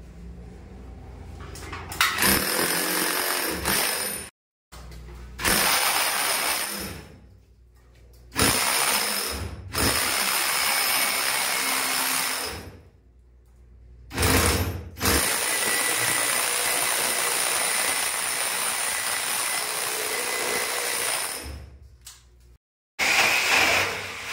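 A rotary drill bores a round hole through a wall for a split-type aircon install, grinding loudly and steadily in long close bursts separated by short pauses, with no talking.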